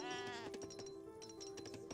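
Sheep bleat in the Age of Empires 3 video game, a quavering near call with a second short bleat after it. Quiet clicks and game ambience sit underneath.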